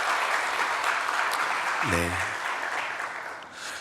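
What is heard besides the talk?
welcoming applause in a church service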